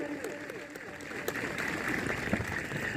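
A crowd applauds steadily at a UP Police passing out parade at the 30 PAC Battalion in Gonda, a continuous wash of clapping under an announcer's voice.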